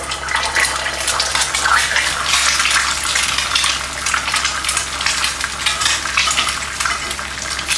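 An egg fries in a hot carbon steel pan with a loud, steady crackling sizzle that holds without a break, close up and alone, with no talking.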